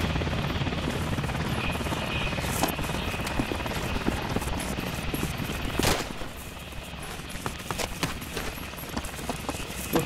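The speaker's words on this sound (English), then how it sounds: "I can't hear because of the helicopters" Helicopters in a video game military operation to capture Osama Bin Laden give a steady, dense rotor wash throughout, a continuous roar with faint thumps and brief sharp cracks near the middle and end.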